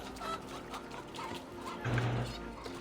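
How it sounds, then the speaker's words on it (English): Chickens cluck and squawk close by in Assassin's Creed Valhalla, a busy scatter of short calls with a denser burst near the end. "And now we're being chased by chickens."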